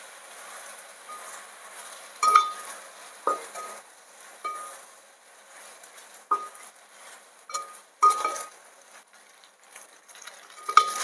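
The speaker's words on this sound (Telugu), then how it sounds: "కొంచెంసేపు ఫ్రై చేసుకోవాలి పాస్తాలో పట్టుకోవాలంటే" Pasta frying with green chili and chili powder in a pan, heard as faint, quiet stirring with sporadic spoon clinks and scrapes against the pan and no voices.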